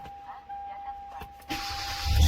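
A Hyundai Avante MD car being started by push button with the brake pressed after a remote-start alarm install, a short click followed by the engine catching and rising into a steady idle near the end.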